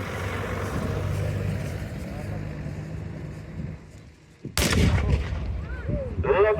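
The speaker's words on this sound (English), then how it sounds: "Lovely shot fired there, the Skoda working perfectly." A 1918 Skoda World War I artillery gun fires a single loud, close blast at a military vehicle show, with a sharp crack and rolling boom; vehicle engine rumble before it and voices around it.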